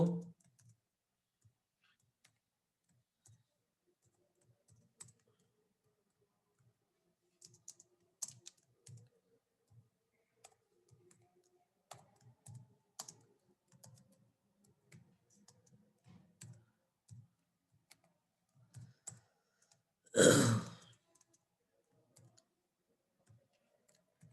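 Sparse, soft computer keyboard key taps while HTML list code is typed, irregular clicks in short bursts with pauses, and one louder clack near the end.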